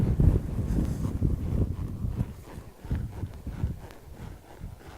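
Gusty wind buffets the microphone in uneven, rumbling bursts, loud at first and then rising and falling.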